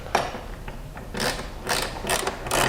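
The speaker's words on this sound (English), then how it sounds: "this is where you're going to need a really big wrench for maximum leverage" A big wrench loosening nuts on a Jeep JL Trektop Ultra soft top: a series of close, short ratcheting clicks and metallic turns in uneven bursts, with no talking.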